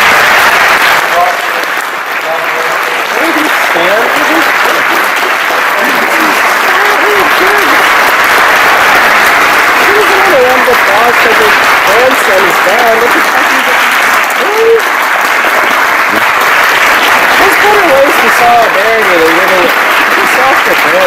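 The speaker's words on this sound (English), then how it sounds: "Stop the applause." A large audience at a Kamala Harris political rally in Sacramento applauds loudly and continuously, a dense wash of clapping mixed with cheering voices that holds for the whole stretch.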